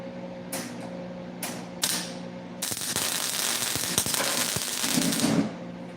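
Welding on a part for a custom Lamborghini Terzo Millennio build, a steady crackling sizzle that starts partway through after a few short bursts, loud and close.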